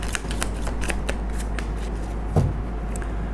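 Tarot cards riffled and shuffled by hand, a steady run of crisp papery flutters and snaps with one louder knock near the end, close and alone with no voices.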